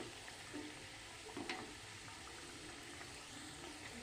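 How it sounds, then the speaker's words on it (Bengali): Whole wheat kachori fry in hot oil as oil is spooned over them. A soft, steady bubbling sizzle plays at low level throughout, with a few faint splashes and no voices. "তেলটা এইভাবে দিয়ে দিয়ে এগুলি আস্তে আস্তে ধৈর্য ধরে ভেজে নেব"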